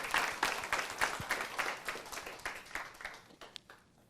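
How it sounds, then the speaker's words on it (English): An audience at a storytelling talk bursts into applause, a lively crowd clapping that is strongest at the start and gradually thins and fades toward the end. "Clap it up for that."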